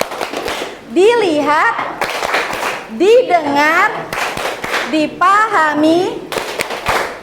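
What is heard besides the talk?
rhythmic clapping in "tepuk fokus" clapping ice-breaker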